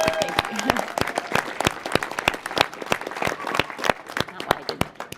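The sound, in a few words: audience applause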